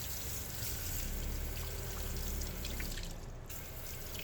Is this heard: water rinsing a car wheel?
yes